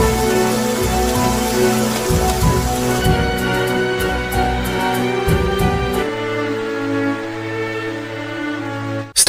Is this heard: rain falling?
yes